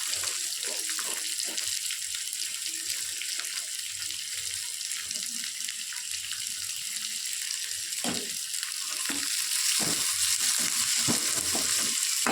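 Two large onions sauté in a pan for a yellow potato kurma, giving a continuous frying sizzle with bursts of stirring and scraping that grow busier toward the end.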